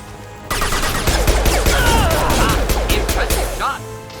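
Sci-fi gunfire in Mass Effect 2 Legendary Edition, loud bursts of rapid shots with crashing impacts over roughly three seconds, then cutting off abruptly.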